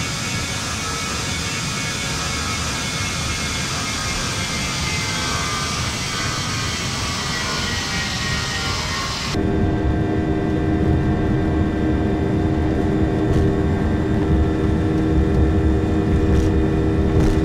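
KLM airliner jet engines during the takeoff roll at Barcelona give a loud, continuous broadband roar that shifts abruptly to a smoother, steadier tone about halfway through.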